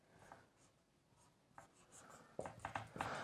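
Pen or marker writing on a board during a chemistry lecture on olefination reagents, with faint scratchy strokes early on that turn into louder, quicker strokes in the last second, and no talk over them.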